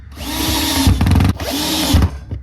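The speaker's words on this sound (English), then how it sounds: "I can drill a little pilot hole under each of those squares and then just screw it into place" A power drill bores a small pilot hole for a screw while a model railway point is being installed, a steady close whine running throughout with a brief change in pitch midway.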